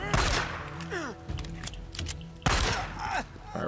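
Gunfire in the video game Days Gone, with several sharp shots and bursts scattered through a noisy game mix, along with thuds and mechanical clatter, loud and close.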